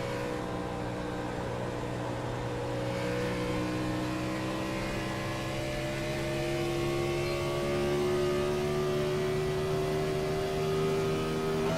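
A NASCAR stock car engine at high revs during the Pennsylvania 500 drones loud and steady, its tone climbing gradually through a long, continuous pull without pause.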